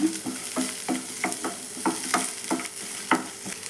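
Cinnamon, cloves, cardamom, a bay leaf, star anise and onion frying in a pan, close sizzling broken by a steady rhythm of spatula stirs and scrapes, about two per second, with no voices.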